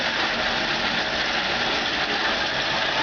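A self-charging electric motor running after being switched on, giving a steady, even whirring hum with no change over the short stretch and no voices.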